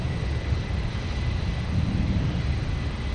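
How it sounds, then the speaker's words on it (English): Beechcraft King Air twin turboprop touching down at Minneapolis–Saint Paul airport, a steady, dense engine and airflow rumble heard from a distance, even in level with no break and no voices. "Let's take a look at the King Air touching down."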